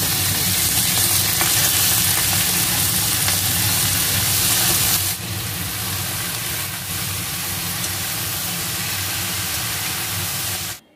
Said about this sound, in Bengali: আর এখানে আগে ভাজছি মূলোটা, মূলো ভাজাও হয়ে গেছে, এবার দিয়ে দেবো এই সবজিগুলো, বেগুন, শিম, কড়াইশুঁটি